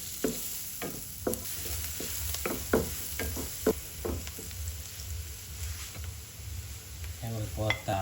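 Butter and garlic frying in a pan for a buttered-garlic shrimp and vegetable dish, giving a steady soft sizzle punctuated by repeated clinks and scrapes of a utensil stirring against the pan.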